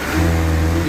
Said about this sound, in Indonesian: mari kita lihat suara mesin ini. Waktu digas dia tidak mau langsung atau tidak responsif